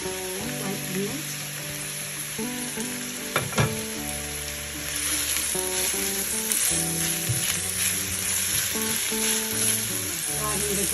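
Four small white onions sauté in a pan with a steady, close sizzle that grows slightly louder midway, with a few sharp clinks of a utensil near the start.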